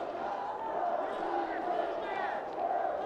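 Stadium crowd noise from football fans cheering on their team at the Beijing 2008 Paralympic 7-a-side gold medal match, a steady, dense roar of many voices sustained throughout.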